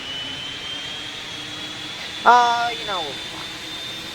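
Boeing 787-9 jet engines in a flight simulator video game whine with a steady high-pitched tone over a low hum, while someone speaks briefly over them.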